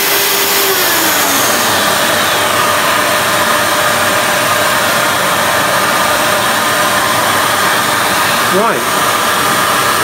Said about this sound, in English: just wait for that extractor to stop for a moment, just to clear the pipes